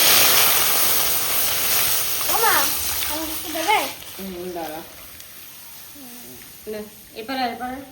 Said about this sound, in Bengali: সবজিটাকে ভেজে নিয়েছি এবার দুধটা দিয়ে দেবো